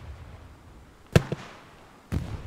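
Grenade explosions in the video game Hell Let Loose, on Omaha Beach: two sharp blasts close together with a smaller follow-up, then a third bang about a second later, against quiet background noise.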